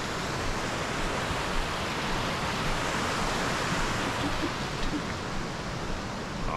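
A waterfall pours with a constant broadband rush, a steady dense roar that holds evenly throughout with no voices over it.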